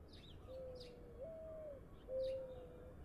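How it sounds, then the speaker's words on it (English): A pigeon coos in soft, drawn-out tones, three low calls in a row, fairly clear over faint background ambience with occasional light chirps. "Oh, that's a pigeon cooing."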